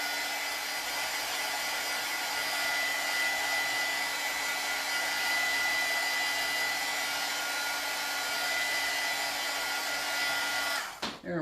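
A dryer blows steadily over a stamped craft surface for about eleven seconds, a close, even whirring hum with a faint whine, cutting off abruptly at the end, with no talk.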